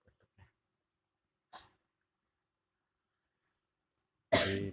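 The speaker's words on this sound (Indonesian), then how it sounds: "barusan batuk-batuk ya." A woman who is ill with a sore throat coughs in a quiet room, with a faint brief cough early on and one loud, harsh burst near the end.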